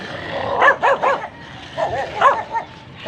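A dog barks in two quick clusters of sharp yaps, fairly close, with brief pauses between the groups.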